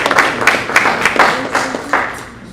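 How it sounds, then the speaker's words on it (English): Clapping at a city council meeting as the room gives a round of applause for a local bishop, with scattered irregular claps and a couple of sharper bursts over a murmuring background. "We give a round of applause."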